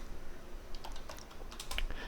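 Computer keyboard keys tapped quietly to enter a shortcut, a few soft, irregular clicks close by over faint room hiss.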